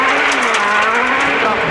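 A Junior WRC rally car at Wales Rally GB 2006, with a steering problem, goes straight on at a corner, its engine howling loudly and continuously with a slight pitch dip, while a voice talks over it.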